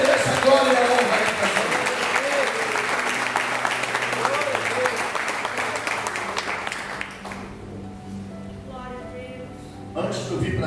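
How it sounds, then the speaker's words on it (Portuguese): Sustained applause from a church congregation, dense and fairly loud for several seconds, then thinning out as a voice speaks over it toward the end. "E se quiser aplaudir a Ele, a glória no nome dele"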